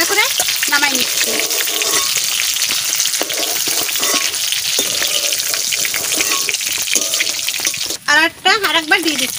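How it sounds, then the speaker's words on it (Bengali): Vegetables frying in a pan for a malai curry, a loud steady sizzle throughout with scraping and stirring, and a brief louder splash of running water near the end. "আমি এরকম করে ভাজা করে নামাই নিচ্ছি।"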